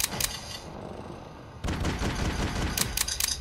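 Video game gunfire in the zombie shooter Don't Bite Me Bro!, with rapid bursts of sharp shots, a few isolated cracks and then a dense fusillade, loud and close.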